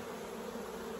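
Agitated honey bees swarming around an open hive during a honey harvest, a steady dense buzzing drone that stays close and loud throughout, with no voices.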